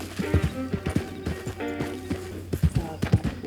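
Video game horse hooves clop in an uneven rhythm at close range, with a few sharper knocks and a voiced horse-like snort mixed in.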